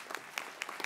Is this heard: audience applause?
yes